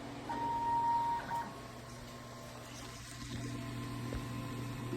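A small DTF printer runs a nozzle check, giving a steady mechanical hum with faint printhead whirring and a brief tonal beep near the start. Nothing else is heard over the low, continuous machine noise.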